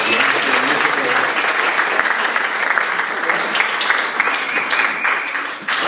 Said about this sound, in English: another round of applause for Christina and Brian